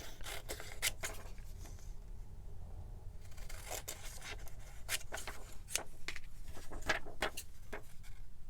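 A small paper image is trimmed for a retro journal page, with a series of quiet, close cuts and rustles that come in irregular bursts over several seconds and no voices.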